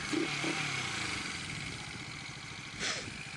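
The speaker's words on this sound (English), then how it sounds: "Motorcycles!" Motorcycle engines rumble and clatter nearby, with a brief rising rev near the end; short and moderately loud.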